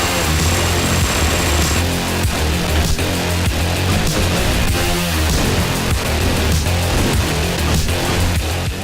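Hotline Miami gameplay: a dense, loud, continuous wash of pulsing retro electronic music and game effects with a heavy low beat, unbroken throughout, no talk.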